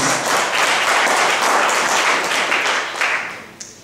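A burst of audience applause during a live music quiz show greets a correct answer, dense clapping filling most of the moment before fading out near the end.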